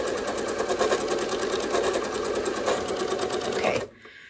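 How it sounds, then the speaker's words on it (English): Domestic sewing machine stitching a free-motion quilting V pattern, running at a steady rapid rhythm close up and loud for nearly four seconds before stopping abruptly. "I want you to sew a V like this."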